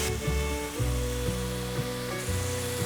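Tomato, yellow bell pepper and enoki mushrooms stir-fried in a wok, giving a steady loud sizzle with rhythmic scraping tosses about every half second.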